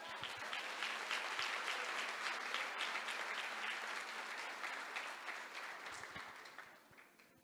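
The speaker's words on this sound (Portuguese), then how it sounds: "Você pode aplaudir o Senhor?" A church congregation claps together during a sermon, dense and lively applause that stays strong, then gradually fades toward the end.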